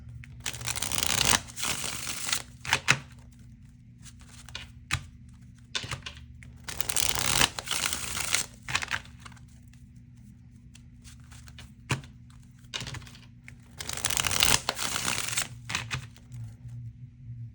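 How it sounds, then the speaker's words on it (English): Oracle cards being shuffled by hand, with bursts of rapid papery riffling that come and go, broken by sharp taps and pauses, with a low steady hum beneath. "So let's go ahead and get you out some oracle cards."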